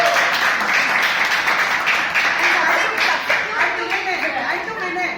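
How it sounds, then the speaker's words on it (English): Applause at a Toastmasters Club meeting, a loud continuous patter of many clapping hands with some chuckling and chatter mixed in, sustained for several seconds. "So big round of applause to Toastmasters Club."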